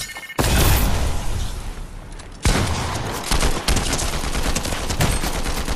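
Loud, dense automatic gunfire in a video game, long sustained bursts with short breaks between them and no talking.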